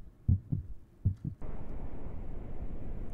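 Two paired thumps of a pounding heartbeat in a video game, loud and close, beating twice in quick lub-dub pairs before a steady low droning hum takes over.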